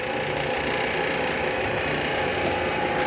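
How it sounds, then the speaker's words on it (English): An old needle-and-awl harness stitcher works through thick leather in a leather shop, giving a steady, continuous mechanical whir and clatter at close range with no talk. "This is a harness stitcher, the original machine Jackson started with, and I'll try to demonstrate."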